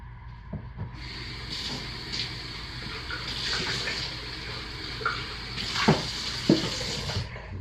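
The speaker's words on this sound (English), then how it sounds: "So we will start by slowly, carefully pouring our lye water into the oils and rinsing the container." Lye water is poured slowly into soap-making oils and the container is rinsed, a steady close trickle and splash with a few soft knocks of handling.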